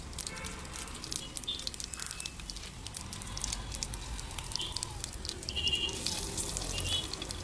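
Six dried red chillies and asafoetida fry in hot oil while tempering a South Indian thuvaiyal, a continuous close crackling sizzle with sharp pops and spatters that swell toward the end, without any talking.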